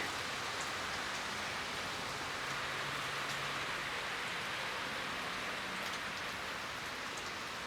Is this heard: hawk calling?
no